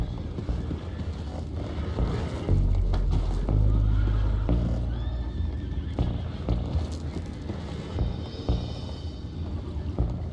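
Horses neigh and whinny with hoof clatter in Red Dead Redemption 2, set against a steady rushing background of water and movement, with no talk over it.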